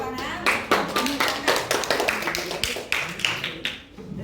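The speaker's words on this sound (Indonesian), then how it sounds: "Ini tepuk tangan." A group claps together in a lively burst of applause, many hands striking in quick uneven rhythm that rises and falls over several seconds, close and fairly loud in a school gathering room.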